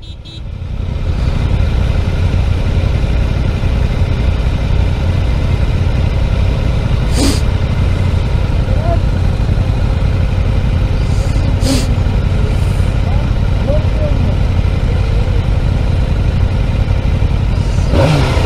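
A Suzuki GSX-R 600 sport motorcycle engine runs loud and close, a deep, steady rumble with a slight clatter that holds for most of the clip, with a few brief sharp knocks breaking through.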